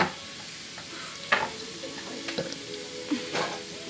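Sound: parathas frying in a pan

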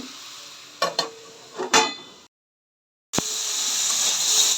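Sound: stirring vegetables in a cooking pot

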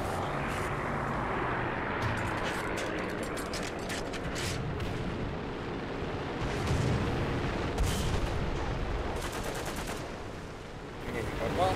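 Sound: artillery strike in video game War Thunder

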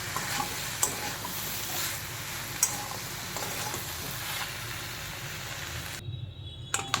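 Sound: stirring chicken stew with pepper and salt

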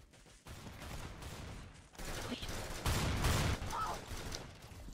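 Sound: gunfire in Arsenal video game

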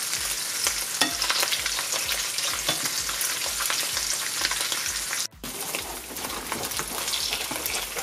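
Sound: fish frying in a pan

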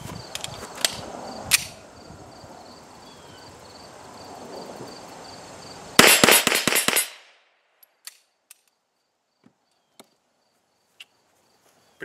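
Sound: gunshots fired rapidly from a Beretta M9 pistol

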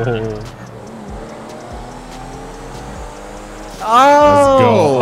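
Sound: car pit maneuver crash on a Camaro in GTA 5 video game

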